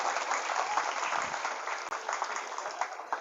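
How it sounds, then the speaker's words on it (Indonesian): Dense, steady applause from hundreds of students' parents at a parenting seminar in an Islamic boarding school, loud and continuous throughout with no pauses. "Tepuk tangan buat para wali santri hari ini."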